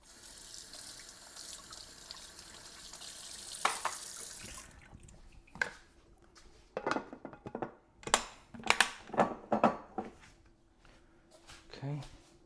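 Water running from a tap into a sink while something is being washed, a steady hiss for the first few seconds, then splashing and clattering bursts and drips, with a person talking nearby.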